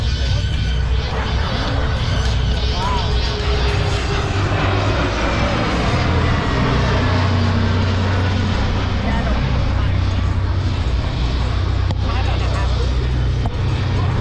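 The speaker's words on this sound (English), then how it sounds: "These are the F-16." F-16 fighter jet roaring overhead at a beachfront air show, a loud continuous jet rumble that swells and sweeps across the full clip, with crowd noise and voices mixed underneath.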